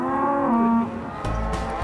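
Cattle on a working ranch, heard as a long, loud, close moo that bends in pitch, then lower, rougher lowing from the herd, with no one talking.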